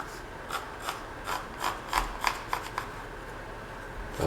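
Vinyl plank flooring is cut by hand around a metal door frame, heard as a series of quiet, irregular scraping and clicking strokes, close by, with short pauses between them.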